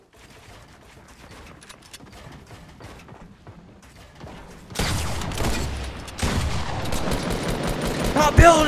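Fortnite Battle Royale gunfire, faint rapid clicking shots at first, then louder dense bursts of shooting that continue to the end.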